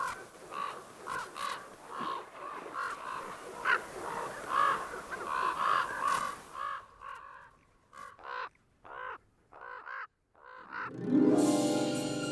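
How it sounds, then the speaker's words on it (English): Ravens calling in Yellowstone, a run of repeated harsh caws at moderate distance, then sparser calls with gaps of quiet, ending in a brief burst of louder broadband noise. "Except for the pesky ravens."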